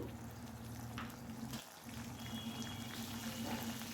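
Steady sizzling and bubbling from a pan as tomato puree hits hot oil tempered with asafoetida, with a brief dip partway through before the frying noise resumes.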